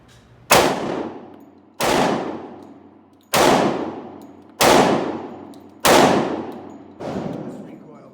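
Six 10mm pistol shots ring out at an outdoor range, evenly spaced about a second apart, each a sharp loud crack with a ringing echo tail.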